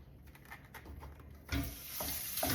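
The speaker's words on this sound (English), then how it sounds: "Hear that sizzle?" Chicken pieces browning in sesame oil in a pan over medium heat, a soft sizzle that jumps louder halfway through as food is stirred, with a few scraping stirs over the steady frying hiss.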